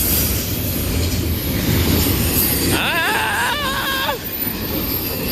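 A Norfolk Southern freight train rumbles past close by, loud and continuous, with wheels squealing in wavering tones midway through and a brief exclamation from a bystander.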